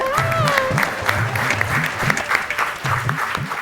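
Audience applause at a Malayalam stand-up comedy show, a lively burst of clapping that carries on through the whole stretch while a performer keeps talking over it.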